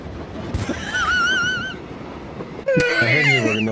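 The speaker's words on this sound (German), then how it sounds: "kann ich auf so einen fahrenden Zug aufspringen?" A moving train in a video game rolls past with a steady rumble and a wavering, horn-like tone, then a sudden louder burst brings a fresh chorus of tonal squeals over the rumble.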